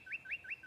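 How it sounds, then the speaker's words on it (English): Little garden birds chirping, four quick rising tweets in an even rhythm, soft and close. "Hear that? The sound of adorable little birds in your garden."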